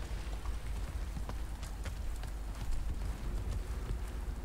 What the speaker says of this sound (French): Ah, mais il pleut.